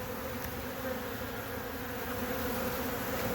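A honey bee swarm clustered in an evergreen tree produces a dense, steady buzzing drone, close and continuous throughout with no voices.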